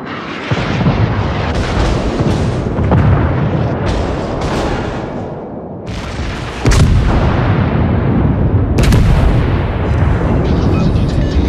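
Warship guns firing in a British Empire naval setting, loud booming salvos with rolling rumble, a strong blast midway followed by sustained heavy concussion and sharp cracks, no talking.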